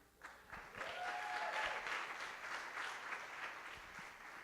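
Steady applause from an audience at a post-screening panel discussion with politicians, a continuous soft patter of many hands heard from some distance, fairly faint throughout with no talk over it.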